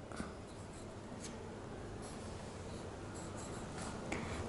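Marker or chalk scratching across a classroom board, a soft steady stroking and tapping that carries on faintly for several seconds with no one speaking.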